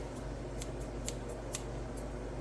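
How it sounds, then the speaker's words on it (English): Scissors snip pickles several times in quick succession over a low background hum, the crisp cuts faint and close. "I cut up the pickles to at least bite-sized pieces. I use this cool scissors"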